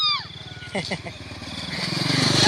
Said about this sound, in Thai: นี่รถมอเตอร์ไซค์นะ ก็ผ่านนะผ่านหน้าบ้านนะ